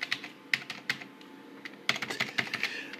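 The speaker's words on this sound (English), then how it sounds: "Let's have a wee test" Keys on a computer keyboard are typed while a modem setup's layout is tested, with irregular clacking keystrokes in small bursts and pauses, close and moderately loud, with no talking.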